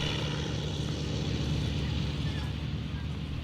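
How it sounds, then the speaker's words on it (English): A propeller airplane drones steadily at the end of a makeshift runway, a low, even engine hum that sounds moderately distant and holds constant without voices. "We heard the plane at the end of the makeshift runway."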